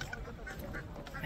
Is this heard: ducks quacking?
yes